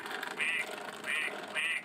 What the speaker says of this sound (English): Here is a duck.